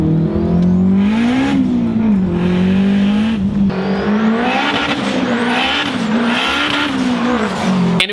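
A turbocharged Acura RSX engine revs hard and close, its loud note rising and falling in repeated waves, with occasional tire squeal and no talking.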